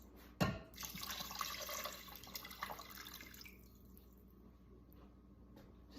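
Water pours steadily into an Instant Pot for vegetable soup, a close splashing rush that starts with a sharp splash and thins to a quieter trickle.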